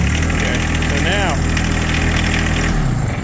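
A John Deere 2025R compact tractor engine runs steadily with a loud, even idle after a new battery install, then begins to wind down near the end.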